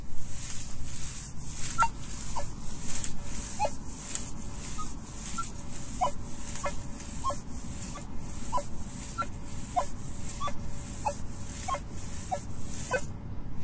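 A metal detector emits a repeated series of short tonal blips over steady hiss, each signal a brief thunking tone with a slight higher edge.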